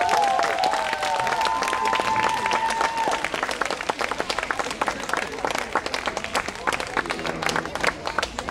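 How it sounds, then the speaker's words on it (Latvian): A large outdoor crowd at a family charity concert in a city garden applauds a family on stage, with dense, loud, continuous clapping and cheering that runs unbroken throughout, while an announcer's voice is heard over it. "te ir vajadzīgi grandioza aplausa"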